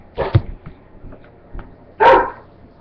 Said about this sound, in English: a really noisy dog